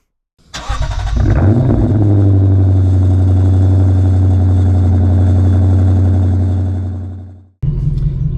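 A Lexus RC F engine fires up with a sharp burst, then settles into a deep, loud, steady idle rumble that cuts off near the end before restarting.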